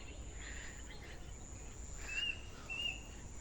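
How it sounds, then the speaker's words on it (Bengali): A few faint, high bird chirps sound from a distance on a farm, two brief calls near the end over a steady hiss of outdoor ambience, with no talking. "কত পাখি কত পাখি ওই যে পাখি কত পাখি শব্দ"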